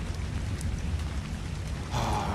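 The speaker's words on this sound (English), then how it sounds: "listen to the rain" Steady rain falls in the video game ARK Survival Ascended on a Ragnarok server, a constant dense patter that lasts throughout and swells slightly louder near the end, with no talk.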